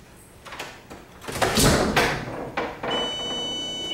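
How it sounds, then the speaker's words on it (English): A house door opened while a home security system is armed: a sequence of latch clicks and creaking, then a louder thump and sweep as it swings, followed by a steady high electronic beeping tone from the alarm panel, close and indoors. "when I open the door it turned on the lights"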